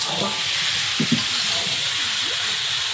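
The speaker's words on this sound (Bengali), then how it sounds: "মাংসটা একটু নেড়ে নিই সাইড দিয়ে তেল ছাড়তে শুরু করেছে ঢাকা দিয়ে রেখেছিলাম ঢাকা খুলে নিয়েছি এবার আলুটা দিলাম" Potatoes added to duck meat frying in oil make a loud, continuous sizzle, with brief scraping stirs mixed in.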